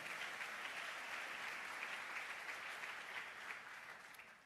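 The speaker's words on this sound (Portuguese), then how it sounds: "Você pode aplaudir o nome do Senhor Jesus Cristo?" Church congregation applauding during a worship service, a steady, even wash of many hands clapping throughout, fairly distant and without any voices.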